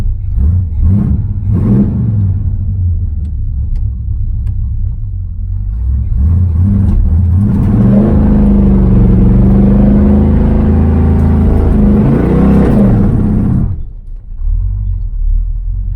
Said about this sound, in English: Just seeing if we do a brake stand.